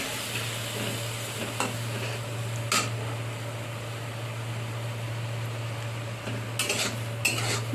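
A spice paste is fried and stirred with drumstick pieces and potatoes over low heat, giving a soft continuous sizzle with scattered utensil scrapes and clinks, a steady low hum running beneath.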